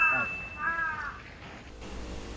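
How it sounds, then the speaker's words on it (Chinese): A single crow caws a few times outdoors on a rainy day near a shrine in Kyoto, the harsh calls fairly clear against light background noise. "刚好外头有听到一只乌鸦"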